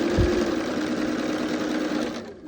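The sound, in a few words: sewing machine stitching quilt pieces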